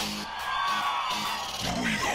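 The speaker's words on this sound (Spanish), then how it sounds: "Y el grito de las Chivas." A crowd yells and whoops together in a loud, sustained burst of cheering for the Chivas football club, voices blending into a dense roar throughout.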